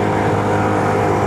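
An Aveta Nova 160 motorcycle engine drones steadily and close during a mountain climb up Gunung Jerai, a continuous running hum with no break.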